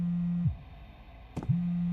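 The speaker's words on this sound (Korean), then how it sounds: "전화가 오네?" A landline phone rings in the horror video game Dread Neighbor, a steady electronic ring tone that starts, breaks off briefly, then resumes, sounding clear and close with no talk over it.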